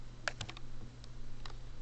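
Typing on a computer keyboard while setting up a Minecraft mod: a few quiet, close key clicks in a short uneven burst over steady low room hum.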